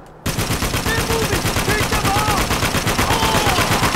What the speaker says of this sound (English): use the turret.